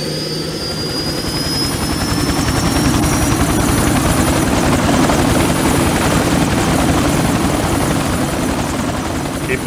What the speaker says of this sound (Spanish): Marchar con el helicóptero.